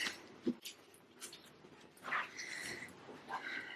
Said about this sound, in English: Dogs were barking at a leaf blowing down the street.